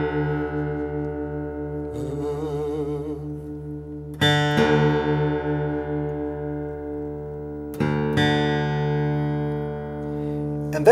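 Several guitar strings ring together out of tune, producing a wavering, beating sound; a few fresh strums follow, each left to sustain and decay.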